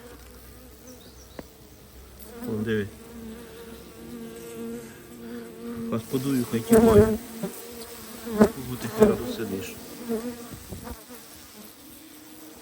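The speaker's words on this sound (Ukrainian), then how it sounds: "Диви, бач, бджоли почали ховати." Bees buzz steadily throughout, a dense insect drone that swells louder midway, with a few people speaking briefly over it.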